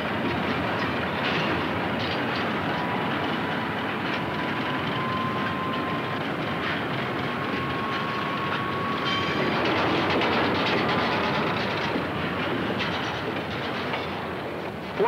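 Freight cars clank and rumble in the strawberry yard at Louisville as more cars are coupled onto a southbound freight train, a steady rolling roar with a long thin wheel squeal and sharp metallic jolts partway through.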